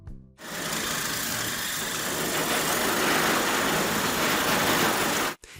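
A Grillion electric grill brush runs its motor against a grill grate left dirty since the last cookout, giving a steady, fairly loud whirring drone that holds evenly for about five seconds before cutting off.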